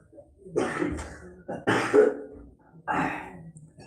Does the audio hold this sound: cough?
yes